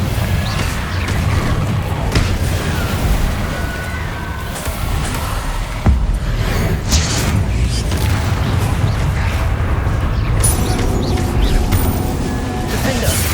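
Repeated Confringo blasting-curse explosions in the Hogwarts Legacy video game, with booms, crashes and pops layered over constant combat noise and voices.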